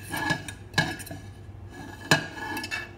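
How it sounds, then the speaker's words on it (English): A fork scraping crustless quiche mixture into a baking dish, a few sharp metallic clinks and scrapes against the dish spaced irregularly over a quiet background. "Use the edge of the fork. Scrape it all in."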